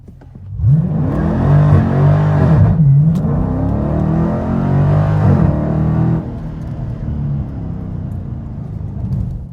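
A 2019 Dodge Challenger Scat Pack accelerates hard in sport mode. The close, loud engine roar climbs in pitch through gear shifts with brief dips between rising sweeps, then settles into a steady drone.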